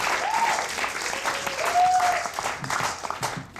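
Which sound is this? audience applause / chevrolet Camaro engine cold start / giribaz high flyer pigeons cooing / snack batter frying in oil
audience applause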